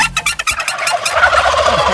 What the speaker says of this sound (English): What prompts them to do that all at the same time, the gobble gobble?